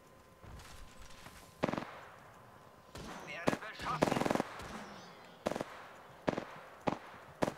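Gunfire in the video game Apex Legends: rapid automatic bursts and single loud shots crack out in irregular clusters, some near and sharp, others fainter, with a voice talking at times.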